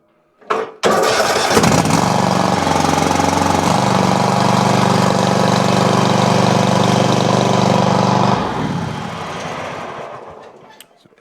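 A Kohler V-twin engine on a Toro Titan mower fires up and runs loudly at a steady roar, dips briefly early on, then cuts off and winds down near the end.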